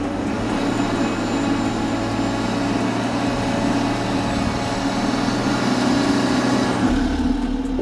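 A BMW SUV's engine drones steadily at close range while its wheels spin with traction control switched off, a constant loud rumble with a brief drop in the low end near the end.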